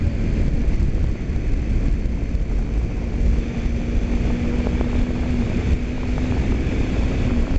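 A car engine cruises in sixth gear at about 60 mph, a steady, loud road-and-engine drone with a faint constant whine, lasting throughout without talk.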